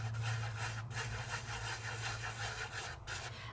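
Foil or glitter is dusted lightly over stamped adhesive with a soft, steady rubbing and brushing sound in repeated short strokes, close and fairly quiet, with no talk.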